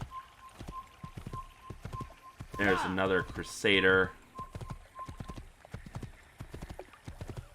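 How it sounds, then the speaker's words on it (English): Horse hooves clip-clop steadily in a medieval Assassin's Creed game world, with a rhythmic patter of hoofbeats running throughout while someone speaks briefly over them. "They have a lot of horses there."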